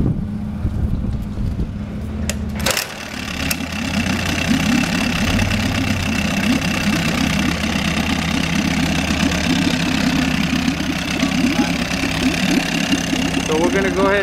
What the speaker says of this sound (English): we got it in a bucket of water so we can show you that it runs.